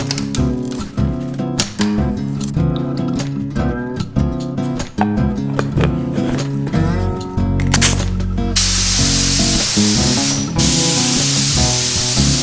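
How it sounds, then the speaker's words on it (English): Music plays for several seconds, then a loud, steady spray gun hiss takes over close by, spraying finish onto a wooden desk top, continuous until the end. "So let's start spraying."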